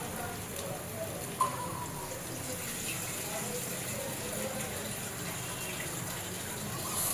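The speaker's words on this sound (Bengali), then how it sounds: "তাই আমি জল দিয়ে নিচ্ছি" Water poured into a pan of fried vegetables for a hilsa fish and raw green banana curry, a steady rushing hiss with one sharp clink early on.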